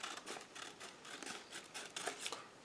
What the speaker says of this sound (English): I'll just turn that page and cut, cut, cut